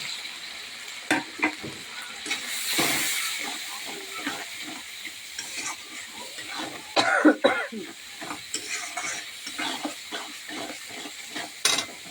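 Spices sizzling and frying in a pan while being cooked down for khichdi, a steady hiss with scattered crackles and occasional stirring scrapes, close and fairly loud, no talking.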